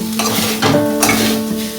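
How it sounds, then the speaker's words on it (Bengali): Grated coconut frying slowly in a pan over a low gas flame, a close, loud sizzle with rhythmic stirring scrapes and a brief tonal squeak of the spatula, no talking. "এই রসটাকে আমি শুকিয়ে নেবো, আস্তে আস্তে করে ভাজবো আর লো ফ্লেমে এটা রাখবো"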